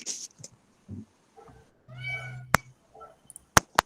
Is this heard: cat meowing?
yes